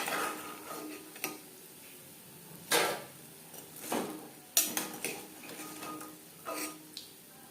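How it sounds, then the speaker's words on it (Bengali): Drumstick flower pakoras being turned in hot oil: scattered crisp clicks and metallic scrapes of a spoon against the pan over a low, continuous frying hiss. "দু তিনবার উল্টে পাল্টে ক্রিস্পি করে ভেজে নিয়েছি"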